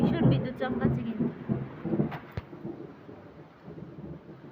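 A low thunder rumble rolls through early in a rainstorm at a village home, fading into soft rain patter while people speak over it.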